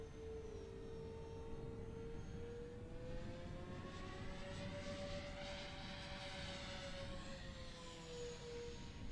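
Twin Timber 1.6 m radio-controlled airplane flying overhead, its twin motors giving a steady, continuous drone whose pitch rises and falls slowly as it passes at a moderate distance.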